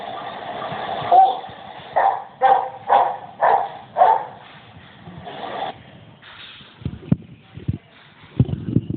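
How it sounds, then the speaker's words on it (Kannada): A trained dog barks in a run of five or six sharp, evenly spaced woofs at moderate distance, followed by softer snorts and thumps. "ಈ ನಾಯಿ"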